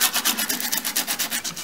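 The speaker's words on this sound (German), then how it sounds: "Jetzt können wir auch noch ein bisschen schleifen hier oben." Rhythmic rasping strokes of abrasive being worked over the upper part of a metal axe head during a forging and finishing session, steady back-and-forth about six strokes per second, close and fairly loud with no talking.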